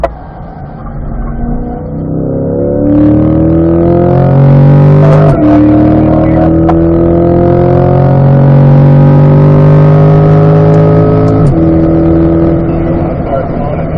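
A C8 Corvette powers out of a corner at Spring Mountain circuit, its engine note climbing loud and close through a sweeping rev, with a quick shift at about five seconds and another near eleven, heard from inside the car.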